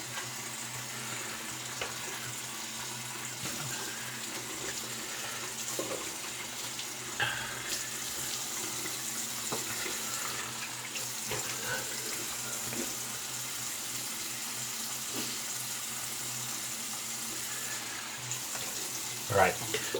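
Running tap water rinsing a lathered shaving brush at a bathroom sink, a steady close hiss and splash under occasional light knocks, with brief talk.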